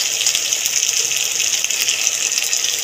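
Water pours steadily into stone-ground mustard, poppy seed and green chili spice paste for an okra curry, a continuous close hissing gush with no talk over it.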